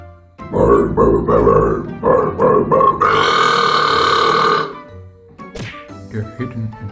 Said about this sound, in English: The burp step.